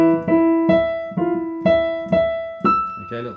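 Solo piano plays the opening of Beethoven's Für Elise with a left-hand E pattern, about seven clear, ringing note groups evenly paced and close, with no talking.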